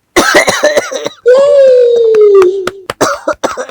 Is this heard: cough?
yes